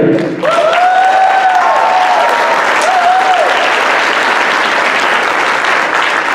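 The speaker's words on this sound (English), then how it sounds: "So give a round of applause to Mr." Loud, dense audience applause for a speaker, a continuous wash of clapping close to the listener that holds steady for several seconds, with a few faint shouts or whistles on top.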